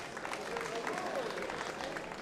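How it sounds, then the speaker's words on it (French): Brief burst of crowd applause at a school robotics competition for teams qualified for the semi-finals; dense, even clapping with faint voices mixed in, moderately distant. "Les applaudir bien, bien fort"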